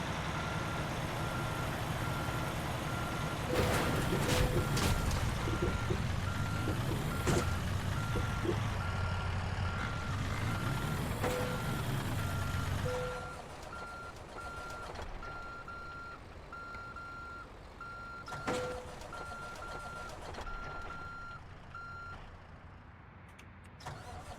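Truck reversing beeps in a video game, a steady string of evenly spaced tones over a low engine rumble that drops away about halfway through while the beeping carries on more quietly.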